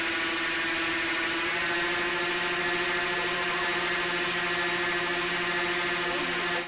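A motor spinning a hypocycloidal gear drive in a laser-cut acrylic housing at about 10,000 RPM gives a steady, loud whirring hum with a constant tonal whine, unchanging for the whole stretch and with no talk over it.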